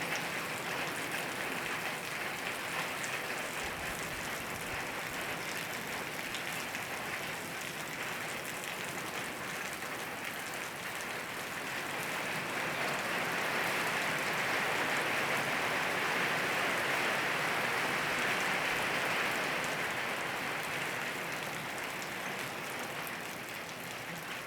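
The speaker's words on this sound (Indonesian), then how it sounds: "Hujan lokal, hujan di tempat tok." Local rain falls steadily at an Islamic boarding school, a constant broadband hiss that swells slightly louder toward the middle, with no voices.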